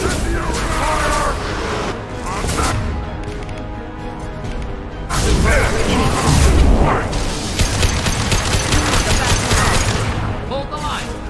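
Rapid incendiary ammo gunfire in Mass Effect 2 crackles in dense bursts over a loud battle din, with voices talking throughout.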